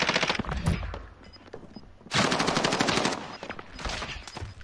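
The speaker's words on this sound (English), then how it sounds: "I'm getting sniped again" Rapid gunfire from a battle royale video game crackles in two dense bursts separated by a short lull, loud and sharp with no voices over it.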